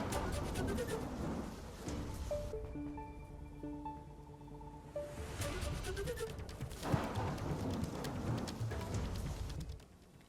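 Rain falls steadily in Mumbai as a broad, continuous wash of noise, dropping away briefly in the middle while a tonal hum comes through, then returning at full strength.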